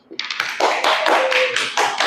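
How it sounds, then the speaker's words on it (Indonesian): Applause from a group of people for a speaker at an indoor security-guard training talk, a dense patter of many hands clapping that builds quickly and holds steady and fairly loud, with no talk over it. "Tepuk tangan buat Manaf."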